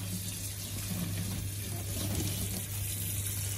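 Tap water runs steadily into a sink while dishes stained with coffee are rinsed, a soft continuous splashing flow with a low hum beneath it.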